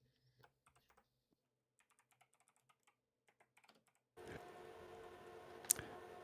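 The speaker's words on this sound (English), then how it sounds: "Just going to type a message here" Computer keyboard typing, sparse and faint at first, then a short burst of keystrokes under a sudden wash of background hiss near the end.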